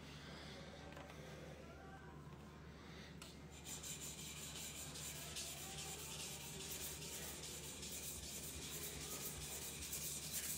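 A knife blade is polished on a sharpening stone, giving a steady gritty rubbing that gets somewhat louder and brighter partway through and continues without a break, close and quiet.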